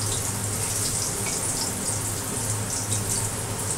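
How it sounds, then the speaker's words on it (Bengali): Potatoes frying in a pan in a home kitchen, giving a steady, even hiss of oil that holds at one level throughout, close and fairly loud, with no talking over it. "আলুটাকে ভেজে নিচ্ছি।"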